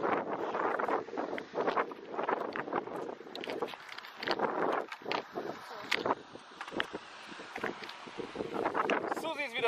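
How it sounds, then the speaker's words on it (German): Wind rushes outdoors during a boat tour on the small Balaton, buffeting the microphone in gusty, uneven bursts while people talk close by over it. "Windrauschen!"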